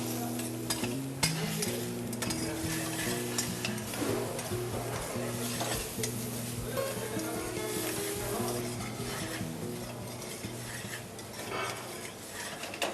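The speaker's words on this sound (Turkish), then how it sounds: "Kavurduğumuz soğana zar şeklinde doğradığımız bonfiletimizi atıyoruz. Soğanla birlikte kavuruyoruz." Diced beef tenderloin sizzles steadily with onions in a hot pan, with occasional scraping and stirring clicks of a utensil throughout.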